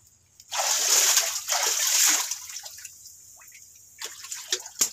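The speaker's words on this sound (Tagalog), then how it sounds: "Maglimas muna tayo, maglimas." Water scooped and tossed out by hand in a wet rural spot, splashing in bursts for about two seconds, then scattered drips and smaller splashes follow, fairly close and alone without talk.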